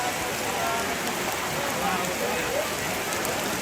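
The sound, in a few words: heavy rain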